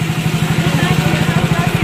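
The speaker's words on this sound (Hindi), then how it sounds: "बाइक अपने न्यूट्रल में चल रही है, ढलान है पहाड़ पे" A motorcycle coasting downhill in neutral on a mountain road, a steady close rhythmic low throb with wind rush and no other voices.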